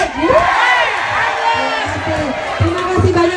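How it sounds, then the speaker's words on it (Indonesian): A lively crowd cheering and shouting for Komkes Sendratmo at a gathering backing Ahok: loud, overlapping voices and whoops swelling throughout, mixed with talk. "Kita berikan tepuk tangan sekali lagi untuk Komkes Sendratmo."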